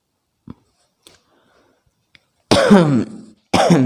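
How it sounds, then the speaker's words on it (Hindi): A few faint clicks and a small cough, then two loud, harsh coughs right up close, one after another. "खांसी ने ज़्यादा परेशान कर दिया है।"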